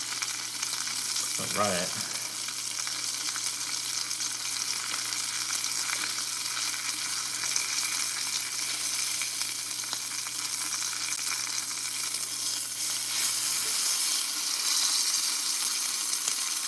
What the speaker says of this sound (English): getting that good sear on each side